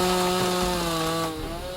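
A chainsaw runs in the horror film Clown in a Cornfield, giving a loud, rough, steady engine buzz that eases slightly near the end of the short burst.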